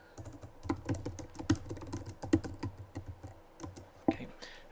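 Typing on a computer keyboard while writing code: quick irregular bursts of close, crisp key clicks with short pauses, no voice.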